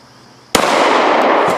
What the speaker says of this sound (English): quit playing around and shoot the gun